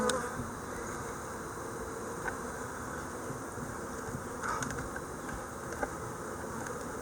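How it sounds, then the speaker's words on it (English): Angry honeybees buzz steadily around an opened hive in an outdoor bee yard, a dense, continuous drone close to the microphone with a few sharper passes flying by. "Now the bees are mad."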